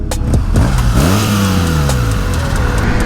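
A 2019 BMW S1000R motorcycle engine revs and climbs through the gears while riding, its pitch rising and dropping with a shift, loud and close over steady wind rush.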